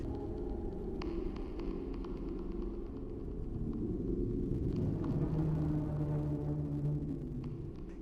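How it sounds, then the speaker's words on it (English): An ice machine giving off a low, eerie moaning hum, steady and fairly faint, with occasional small clicks and a wavering tone rising midway, alone. "the eerie sound the ice machine truly was making. It sounds like the windy moans of a ghost."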